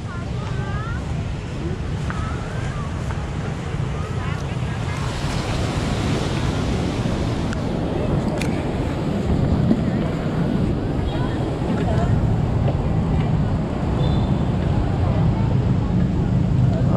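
Sea waves wash onto Hòn Chồng beach on an evening shore, a steady broad surf roar with wind buffeting the microphone and faint voices of beachgoers mixed in throughout.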